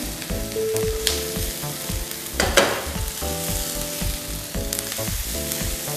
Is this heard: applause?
no